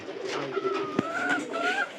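Pigeons, including young birds, cooing at a market where they are sold; soft rolling coos repeat close by over a steady background murmur.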